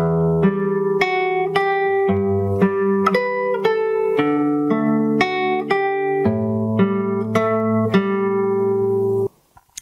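Fingerstyle acoustic guitar plays the next phrase, a steady run of roughly fourteen plucked notes over sustained open bass strings, close and clear with no voices, ending abruptly.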